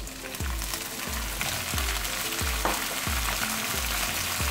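Tamarind leaves and tamarind pulp frying in a pan, a loud steady close sizzle with rhythmic scraping strokes of a spoon stirring roughly every half second, no voices.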